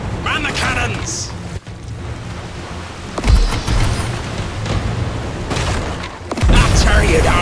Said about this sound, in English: Man the cannons!